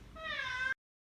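A cat lets out a single drawn-out, rising meow up close while its nails are being trimmed, clear and alone before it cuts off abruptly into silence.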